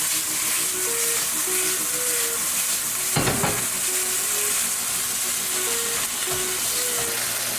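Beef sears in a hot wok with a loud, steady sizzle and hiss, a clattering stir near the middle and a few softer scrapes, with faint tonal beeps in the background and no talking.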